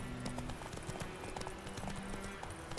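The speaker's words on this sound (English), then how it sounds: "let's go ahead and call my horse" Horse hooves clop steadily in The Witcher 3: Wild Hunt, set in White Orchard, a rhythmic trot under dense game music and ambient noise.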